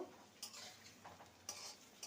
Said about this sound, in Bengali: এবার এগুলোকে উল্টে দেব